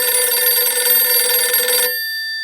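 A telephone bell rings steadily and loudly for about two seconds, then stops abruptly, leaving a brief fading tone; no one speaks.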